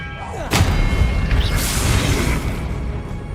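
A spell cast in the video game Hogwarts Legacy bursts out as a sudden loud whoosh and thud, followed by a sustained rumbling, crackling swell that lingers before easing off.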